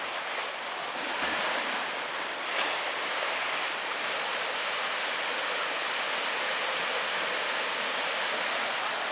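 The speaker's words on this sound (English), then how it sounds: "And this would be Chapel Creek" Chapel Creek in Pictured Rocks rushes with a steady, dense hiss of flowing water, loud and close, unbroken throughout with no voices.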